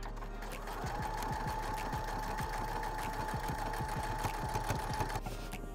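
A sewing machine stitches jean seams closed, running steadily with a fast mechanical chatter and hum for several seconds before stopping, close but fairly quiet.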